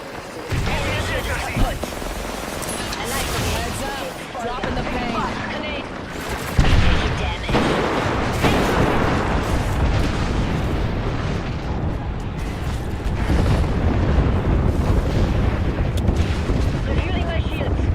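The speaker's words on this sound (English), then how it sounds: "Dropping the pain. Grenade." A grenade detonates in a shooter video game amid continuous loud battle noise, with booming blasts and gunfire layered over one another and a sharp burst near the middle while a voice talks through it.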